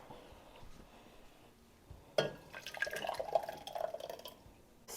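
Tomato sauce is scooped out of a container for a taco sauce, giving faint, wet, squelchy scraping bursts that start partway through after a quiet stretch.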